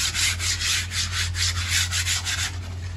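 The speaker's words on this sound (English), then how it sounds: "So I gave it a scrub back with some sandpaper" Sandpaper scrubs rhythmically back and forth over the timber cladding of an aquaponics radial flow settler. Steady, close rasping strokes come about four per second, with a constant low hum underneath.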